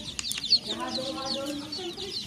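Newly hatched native chicks in a brooding house, soft high peeping and clucking close by, with a faint background murmur.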